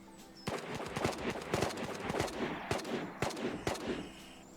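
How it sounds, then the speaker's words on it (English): Gunfire rattles in the VR shooter game Ghosts of Tabor, a string of sharp cracking shots in uneven bursts, some close and loud, others trailing off farther away. "A lot of gunfire."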